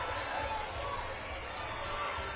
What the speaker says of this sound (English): They're really cheering on their swimmers, letting them know that someone's coming up right behind them